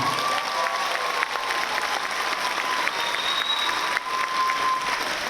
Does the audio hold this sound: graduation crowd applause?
yes